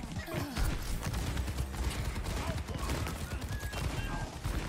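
Cassidy's revolver shots in Overwatch, a busy stream of gunfire and impacts amid hectic game noise, steady throughout, with voices talking under it.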